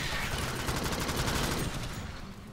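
Rapid automatic gunfire in the top-down shooter Reactive Drop: Alien Swarm, a dense, continuous burst of loud shots that tails off after about two seconds.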